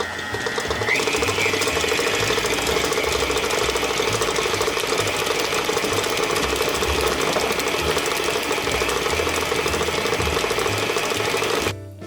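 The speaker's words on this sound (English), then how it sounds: "And from this point, I'm going to turn my mixer up." An electric stand mixer creams butter and sugar for spritz cookies, running at high speed with a steady, loud motor whir and rhythmic beater rattle for about twelve seconds before it shuts off.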